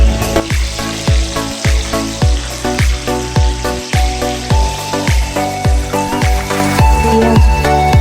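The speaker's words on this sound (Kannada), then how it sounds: "ಅದ್ರ ಜೊತೆ ಈರುಳ್ಳಿ ಕೂಡ ಹಾಕ್ತಿದ್ದೀನಿ" Onions added to hot oil with peanuts and roasted gram, crackling and frying loudly up close, with repeated clinks of a spoon stirring the pan in a steady rhythm.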